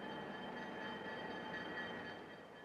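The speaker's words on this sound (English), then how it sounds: "Coal, the third major ingredient, usually arrives at the steel mill by train." A coal train arriving at a steel mill produces a steady, even rumble of rail cars, heard at a moderate distance with no voices.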